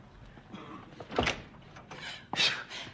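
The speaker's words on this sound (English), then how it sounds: "I hear a knock on the door now." A door knock in a home, a couple of sharp broadband thumps near 1.2 and 2.4 seconds, fairly close, with faint room noise in between and no talk.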